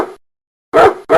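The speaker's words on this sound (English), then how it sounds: "A dog barks." A dog barks three times, loud and close: one short bark, a pause, then two quick barks in succession, with no other sound around them.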